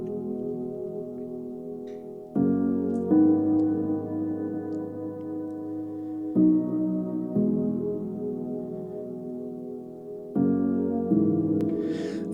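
Lush, reverb-soaked synth chords for an organic house track, sustained pads changing every few seconds with a soft swelling tail, played alone with no voices.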